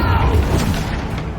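A Confringo blasting spell explodes in the video game Hogwarts Legacy, a loud, deep boom with a rumbling roar that fades out over about a second.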